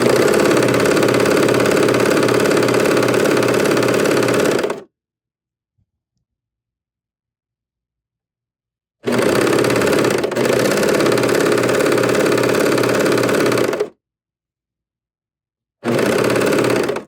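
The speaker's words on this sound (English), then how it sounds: "we're going to be stitching this single piece with our 5/8 of an inch seam allowance" Serger sewing machine stitching a single fabric piece along a seam, running in a steady fast mechanical whir for several seconds, stopping dead, then starting again twice.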